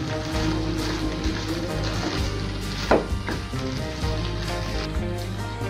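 Pea masala ghugni frying in a pan as it is stirred, a steady close sizzle with soft scraping and a few brief knocks of the spoon against the pan.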